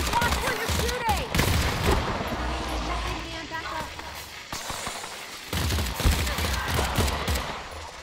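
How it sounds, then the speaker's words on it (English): Rapid bursts of gunfire in the Earthfall video game during a chaotic firefight, with dense repeated shots and booms throughout, loud and near, while players shout over the action. "Andy, watch where you're shooting!"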